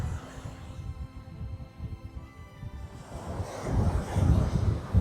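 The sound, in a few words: strong wind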